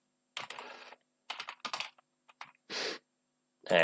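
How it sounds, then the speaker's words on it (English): Bursts of typing on a computer keyboard as a name is entered, short clusters of close, crisp key clicks separated by brief pauses, with no talking. "I can type in my name"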